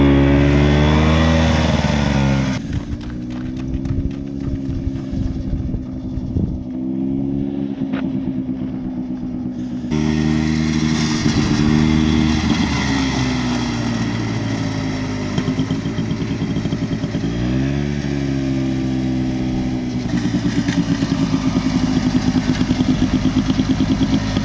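A 1973 Arctic Cat Lynx snowmobile engine running a lap, loud and close, its buzzing two-stroke note rising and falling as the throttle is opened and eased, with a brief lull before revving back up.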